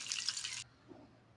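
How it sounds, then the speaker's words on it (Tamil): Water splashes and trickles for a moment as ivy gourd drains in a kitchen strainer, a close burst of running water that stops abruptly, followed by near quiet. "இப்போ இந்த கோவக்காயை நல்லா ஸ்ட்ரெயினரில் போட்டு தண்ணி வடிய விட்டுருக்கேன்"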